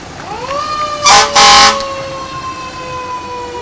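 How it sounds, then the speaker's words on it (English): A 1965 American LaFrance fire engine in a July 4th parade lets out a rising, wailing mechanical siren, and a loud, blaring air horn cuts through it in two bursts. The siren holds a steady tone and then slowly winds down. "This is a 1965 American Lawrence fire engine."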